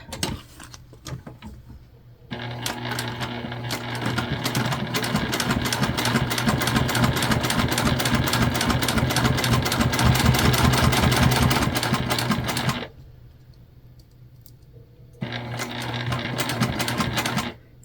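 A sewing machine runs back stitching on a candy bag, a loud, steady motor whir with rapid needle chatter for several seconds, a brief pause, then another burst of stitching.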